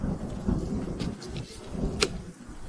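Deep thunder rolls on continuously in a drama scene, with a sharp crack standing out near the end.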